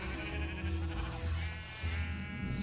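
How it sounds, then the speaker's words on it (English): Sheep in the Minecraft video game bleat in a few repeated wavering calls, close and clear over faint game background sound. "But there's sheep down here."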